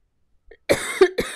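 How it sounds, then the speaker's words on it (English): A single close cough, a short throat sound, then two more harsh coughs in quick succession, loud against a quiet background. "there's a cough coming on."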